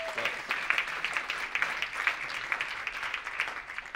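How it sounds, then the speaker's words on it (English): A moderate round of applause at an award ceremony, lighter clapping from a modest audience with uneven rhythm and a distinct patter of individual hands, with no talk. "Give her a round of applause."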